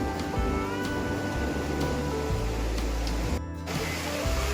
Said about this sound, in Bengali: সমুদ্র পুরো মাতাল উত্তাল হয়ে রয়েছে